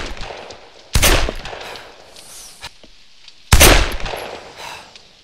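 Two loud, sharp handgun shots in Arma 3, fired at long-range targets with open sights, each followed by a short decaying echo, with quieter ambient noise and small clicks between them.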